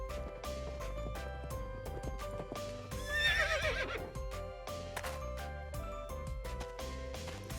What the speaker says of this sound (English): I think I actually hear a horse coming.